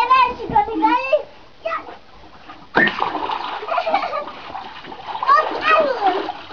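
Two young cousins splash in water outdoors, with sharp slaps and sprays at intervals amid their excited chatter and shrieks.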